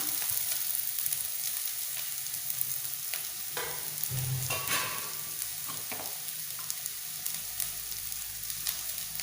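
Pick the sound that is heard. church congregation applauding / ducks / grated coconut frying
grated coconut frying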